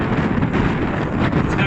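Strong wind buffeting a microphone while cycling in an east wind, a steady loud low rumble filling the whole moment with no other sound standing out.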